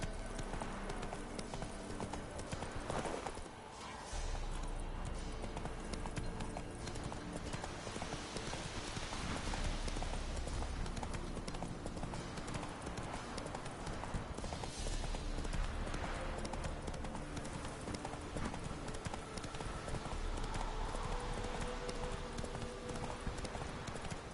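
In The Witcher 3, a horse's hooves clip-clop steadily in a continuous rhythmic beat, moderately loud against constant game ambience with no talk.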